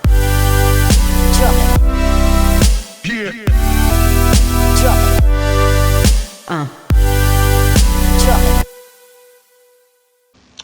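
A finished chillstep track produced in FL Studio, with lush sustained synth chords in repeating loud sections broken by short gaps and sweeping effects, ending in a fade to a faint tail.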